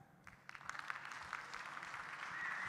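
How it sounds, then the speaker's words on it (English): Audience clapping to welcome panelists at the RFSI Europe 2025 investment conference: scattered claps quickly build into steady, fairly faint applause that grows a little louder toward the end. "We'll just keep clapping and clapping and clapping."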